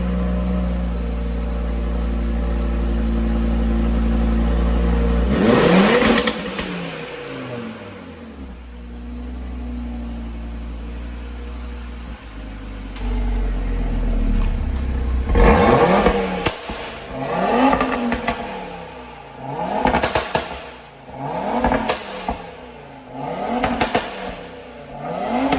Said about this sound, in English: So my car has a sport exhaust, so it is louder.